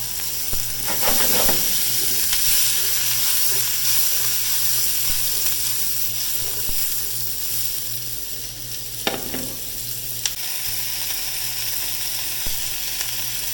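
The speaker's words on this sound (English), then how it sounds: "saute this for about 3 to 4 minutes until these vegetables start getting soft and translucent" Chopped vegetables for a chicken and sausage étouffée sauté in a pan with a steady, close sizzle and occasional stirring scrapes and clicks.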